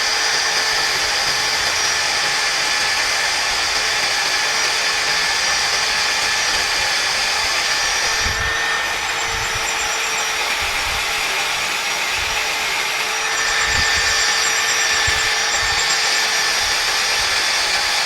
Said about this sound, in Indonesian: saya mulai dari speed 2 dulu, ntar saya turunkan supaya mata bornya nggak cepat tumpul ya